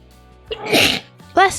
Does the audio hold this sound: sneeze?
yes